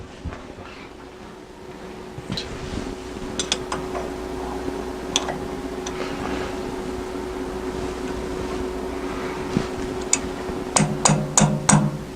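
Spanner wrench tightening a small nut during restoration of a Clausing 6x12 surface grinder, with scattered metallic clicks and a quick run of ratcheting taps toward the end over a low steady hum.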